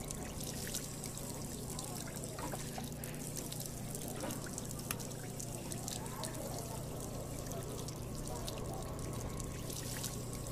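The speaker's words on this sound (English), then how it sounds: "Water." Water pours steadily from a tap in the video game Job Simulator, a continuous trickling stream heard close throughout with a low hum underneath.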